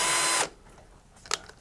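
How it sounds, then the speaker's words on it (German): A handheld power drill runs loud and steady for under half a second, then cuts off, during work on a large 2000-litre aquarium; a few faint knocks and clatters follow. "Bohrer richtig einspannt, dann eiert der auch übrigens nicht."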